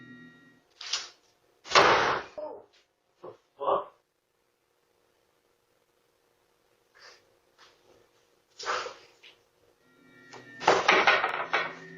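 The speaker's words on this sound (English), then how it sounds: "One of the doors is aggressively yanked shut" A door yanked shut hard in a quiet house at night, giving a sharp slam and rattle that stands out from long near-silence, with a few other knocks and bumps around it.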